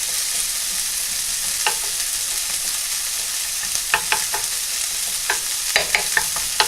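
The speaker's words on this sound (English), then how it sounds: "Turn it up just a little high here so I can sear them." Chicken sears in a hot pan with a steady sizzle and intermittent sharp clicks of stirring and scraping, which grow busier toward the end. The sound is close and loud, and nobody speaks.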